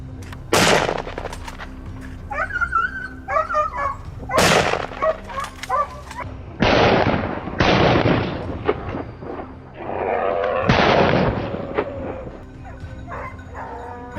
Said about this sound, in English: A rapid burst of gunfire echoed, and the beast collapsed before it could flee.